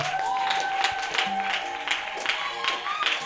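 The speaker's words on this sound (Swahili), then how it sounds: "Pigie tena Yesu makofi." A church congregation claps for Jesus in dense, continuous applause, with voices mixed in throughout.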